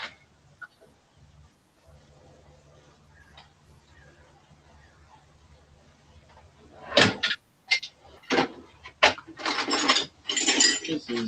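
A bolt drawer in a hobbyist's RC workshop is pulled open: after a quiet stretch come a quick series of loud rattling clunks and scraping slides, close up, with hardware shifting inside.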